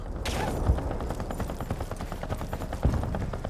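Rapid gunfire rattles in the World War II video game Battlefield 1943, a continuous burst of quick shots with a couple of heavier thuds, heard fairly quietly.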